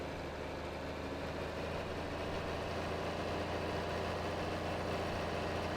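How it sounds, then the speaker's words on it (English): Tractor engine labouring under a very heavy load in the Farming Simulator 22 video game, a low, steady droning rumble that holds constant and fairly quiet throughout, with no talk. "The poor little tractor's struggling so bad."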